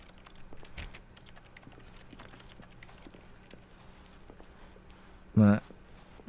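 Sparse, faint clicking of a computer mouse, scattered taps over a low hum, with a couple of louder abrupt bumps near the end.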